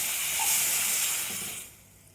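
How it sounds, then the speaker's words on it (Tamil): Water pours and hisses into a hot pan of broad beans, a sizzling rush that fades out toward the end. "நான் இந்த சொம்பில் ஒரு சொம்பு தண்ணி இதில் சேர்க்குறேன்"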